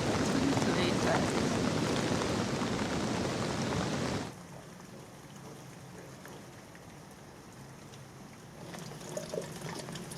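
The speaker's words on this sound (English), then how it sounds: "all the little raindrops hitting the water" Dense patter of rain falling on water, loud at first and then softer and more distant, a steady hiss of drops.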